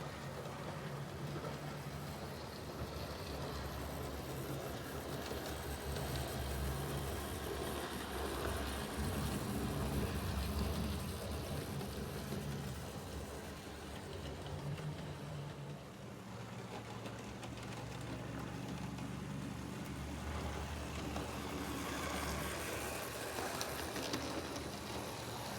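Roco DCC model DB V200 diesel locomotives run on a layout, giving a continuous mechanical hum and rumble with shifting motor tones, steady and fairly close, with no talk.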